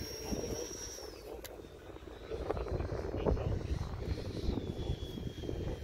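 An electric ducted fan RC plane lands nearby, giving a steady high-pitched fan whine that glides downward in pitch, over broadband wind-like rushing that grows slightly louder. Voices speak quietly in the background.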